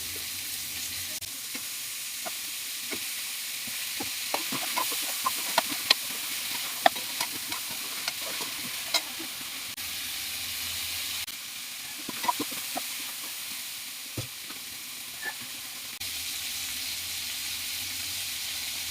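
Brinjal (eggplant) sautéing in a pan, a continuous loud sizzling hiss with scattered faint crackles and occasional stirring scrapes throughout.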